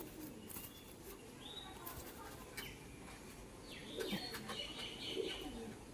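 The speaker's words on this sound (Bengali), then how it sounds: "একদম ফ্রেশ একটা কালো সবুজ মাদি পায়রা" A black-green female pigeon with a wheat-coloured beak gives soft, faint coos amid scattered chirps from nearby birds in a quiet setting.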